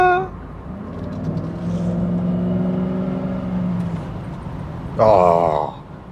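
Cadillac Allanté engine heard from inside while the car is driven through bends, a steady droning hum that swells, then a short louder rise in revs near the end, with someone talking over it.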